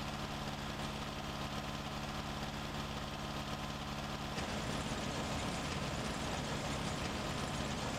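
A T-25 tractor engine in Farming Simulator 19 idles with a steady low mechanical drone, its pitch and rhythm shifting slightly partway through.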